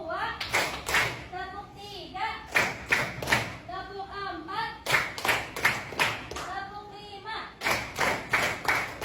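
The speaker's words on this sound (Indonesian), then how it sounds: "Ya, tepuk 1, tepuk 2, tepuk 3, tepuk 4," A class claps in counted rhythm, with groups of sharp, close hand claps repeating in steady sets. Voices, including children's, call out between the groups.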